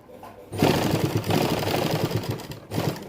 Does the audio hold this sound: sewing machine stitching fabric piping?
yes